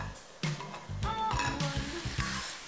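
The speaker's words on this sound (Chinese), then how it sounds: "香菇是需要提前炒一下的" Shiitake mushrooms stir-fried in a wok alongside chicken, dried chilies and ginger, with repeated scraping strokes of a spatula and clattering over a steady sizzle, close and moderately loud.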